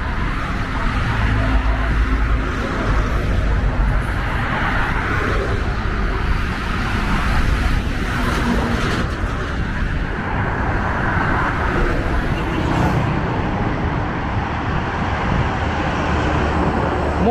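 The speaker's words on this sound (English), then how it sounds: "more cars is passing right here." Steady traffic rolls along Mombasa Road in Nairobi, a continuous roadside roar of cars and heavier vehicles passing nearby, with swells as individual vehicles go by.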